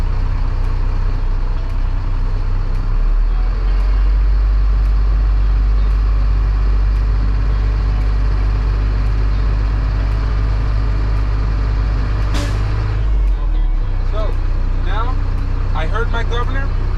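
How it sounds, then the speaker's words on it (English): A truck engine idles loudly, then a sharp burst of air hisses as the air brake governor valve releases at around 120 psi, before the low rumble continues, with talking over it. "At around 120 psi, we should hear the governor valve."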